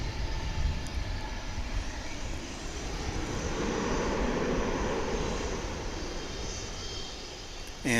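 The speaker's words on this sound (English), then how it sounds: "That is American Flight 2563, a 737-800 coming in from Austin, Texas, the capital of this here state." An American Airlines Boeing 737-800 arriving from Austin at DFW International Airport gives off a steady jet roar that swells gently in the middle and stays continuous throughout, heard alone without talk.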